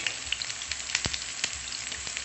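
Garlic and shallots sauté in hot oil with a soft, even sizzle broken by small pops and the odd scrape of stirring, close but fairly quiet and without voices.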